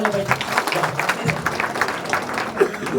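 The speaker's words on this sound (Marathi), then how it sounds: "एकदा सुंदर नानासाठी जोरदार टाळ्या झाल्या पाहिजे" Scattered clapping from a modest crowd at a farmers' gathering, brief and moderately faint, with some murmuring among the hands.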